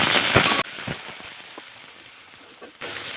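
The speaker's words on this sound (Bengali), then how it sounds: "রসুনটা ভাজা হয়ে গেছে, এখানে আমি টুকরো করে আলুটা দিয়ে দিচ্ছি।" Potato pieces dropped into hot mustard oil with garlic already fried golden for okra chachchori, a loud burst of sizzle that settles into steady crackling frying close by.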